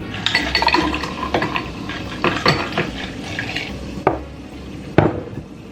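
Ice cubes dropped into a serving glass of seltzer water, several sharp clinks and clatters close by, spaced irregularly, with faint fizzing and handling noises between them and no talking.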